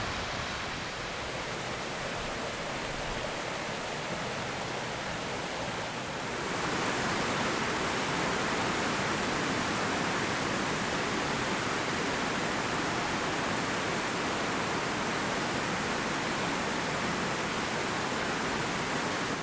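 A waterfall in eastern Iceland roars as a steady, dense rush of falling water, close and loud throughout, swelling fuller after a few seconds with no voices.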